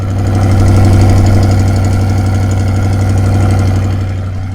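A 2021 Chevrolet Corvette C8 Z51 convertible's 6.2-liter V8 runs at a steady, loud idle, with a deep, even rumble and vibration that hold throughout and no voices over it.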